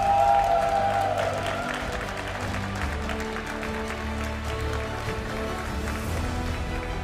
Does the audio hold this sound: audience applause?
yes